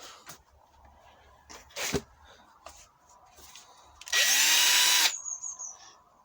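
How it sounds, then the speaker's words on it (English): A small 12 volt cordless polisher on an Audi TT alloy wheel whirs in one loud, steady burst of about a second, winding down afterward, between scattered handling knocks and scrapes. "I do the little bits the front with the little cordless polisher."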